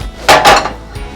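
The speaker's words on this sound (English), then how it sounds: "Now I like to drain off the excess oil." A pan clatters and scrapes in quick metallic knocks while excess oil is drained during Chicken Marsala cooking, two close bursts followed by a faint tap.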